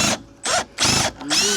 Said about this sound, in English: if I just stick the drill in like this